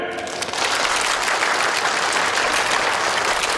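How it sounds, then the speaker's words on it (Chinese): Guests at a company's 20th anniversary banquet break into loud, dense applause after a short opening moment. The many hands clap in a continuous, close roar that stays level to the end. "掌声欢迎顾总"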